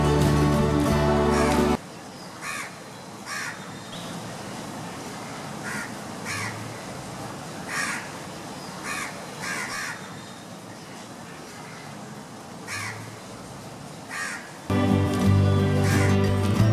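A crow caws repeatedly in short, spaced calls over a steady hiss of monsoon rain, fairly close, with louder noisy passages at the start and end.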